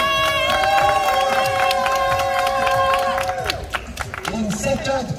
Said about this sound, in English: we can applause her. On peut applaudir bien fort.